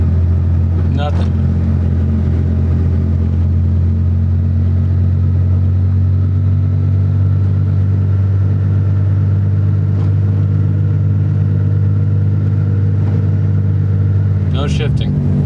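A Dodge Ram 1500 engine holds a steady, loud idle-to-revving drone in gear without any shift, the tone staying level throughout, with brief rattling clunks near the start and end and a voice talking faintly over it.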